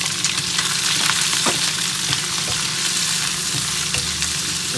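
Shrimp sautéing in a hot pan, a steady loud sizzle with crackling spatters and occasional stirring scrapes, close and continuous with no voices.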